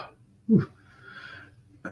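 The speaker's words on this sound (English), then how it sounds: "burped for a second there." A single short burp from a podcast host partway through recording, a brief throaty burst near the mic standing out against quiet room tone, with faint breathy sounds after it.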